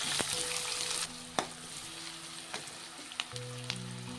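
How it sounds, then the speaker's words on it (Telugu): Chopped onions and green chillies fry in a pan for an amaranth-leaf and potato fry, giving a steady, close sizzle with occasional stirring knocks and no talking. "నాలుగు పచ్చిమిరపకాయలు ఇలా చిన్న ముక్కలు రెండు ఉల్లిపాయలు అనమాట ఇలా రెండు చిన్న ముక్కలు రెండు ఉల్లిపాయలు ఇలాగా చిన్న చిన్నగా ముక్కలు కోసుకొని వేసుకోవాలి"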